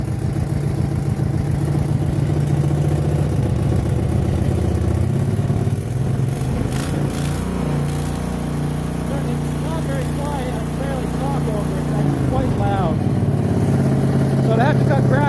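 A Vanguard engine fitted to a mower frame runs steadily with a homemade muffler, a continuous mid-pitched hum with clatter, and a voice is heard over it.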